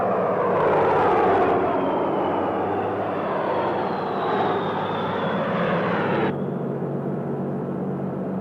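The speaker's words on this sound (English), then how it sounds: "A fleet of vintage B-17 bombers was converted to drop insecticide." A vintage B-17 bomber converted to spray insecticide drones past as it flies, a loud sustained piston-engine roar with a slowly falling tone that cuts back sharply near the end.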